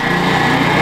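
Motor of a kinetic wood splitter running after starting up, a loud, close, steady engine drone with a fast pulsing rhythm over a brief moment.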